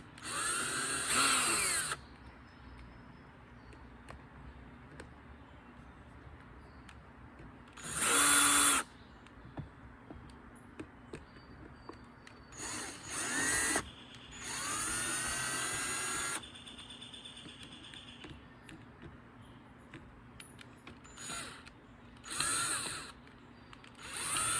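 A power drill whirs in short bursts while backing out the small gearbox screws on a Baratza Encore coffee grinder, close up, with quiet handling clicks between the runs.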